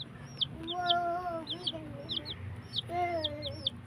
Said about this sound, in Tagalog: Ito po yung sisiw ko.